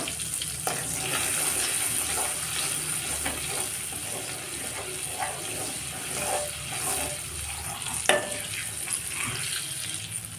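Oil with chili powder sizzles in a pan for a paneer curry, giving a steady close crackle with occasional clinks and stirring sounds and no talk.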